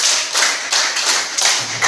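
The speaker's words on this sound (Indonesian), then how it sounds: "tepuk 5 kali" Hands clapping in a classroom, sounding as a handful of sharp, evenly spaced claps, loud and close, with no voices over them.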